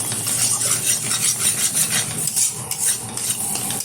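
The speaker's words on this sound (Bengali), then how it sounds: "ভালোভাবে মশলাটা কষিয়ে নিচ্ছে।" Spice masala for a hotel-style egg curry being stir-fried in a pan, with steady scraping and clinking of a spoon against metal over a soft sizzle, continuous and close throughout.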